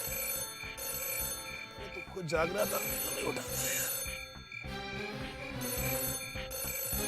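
A mobile phone ringtone repeats in bursts while people talk over it in the room, the ringing steady and fairly close.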